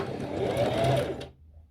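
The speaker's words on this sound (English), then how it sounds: "So I'm just going on to the machine here, and I'm going to stitch it very quickly" A sewing machine stitches fabric in a quick, short burst, a close whirring mechanical run that stops abruptly after about a second.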